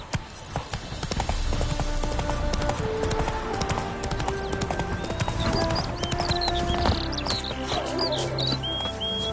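Hoofbeats of the horse Roach in The Witcher 3, a fast, continuous clip-clop rhythm of a gallop over ground, close and prominent, with faint birdsong and ambient game music behind.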